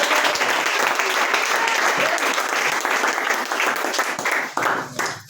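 A church congregation applauding loudly and continuously, a dense wash of many hands that tapers off near the end.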